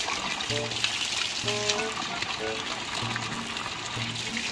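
Water from a deep well pump drawing from 100 feet underground gushes in a continuous loud rush, with people talking over it.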